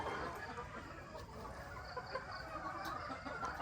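Sweater 226 gamefowl chickens cluck softly and steadily at a distance, the calls scattered over a continuous outdoor background.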